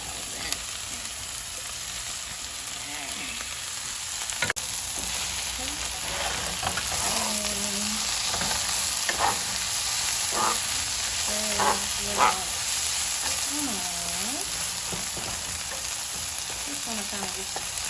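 Spinach fries in a pan with chicken breast and mushrooms in a creamy sauce, giving a steady close sizzle with repeated spatula scrapes and stirs, and short bits of talk underneath.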